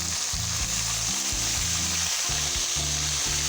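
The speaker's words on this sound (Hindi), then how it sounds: "चिकन हमने इसमें फ्राई करना है इसकी रंगत चेंज होने तक।" Chicken pieces fry with browned onions in a pan for gobhi gosht, making a constant close sizzle with a low bubbling hum and occasional stirring.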